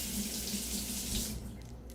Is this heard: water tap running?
yes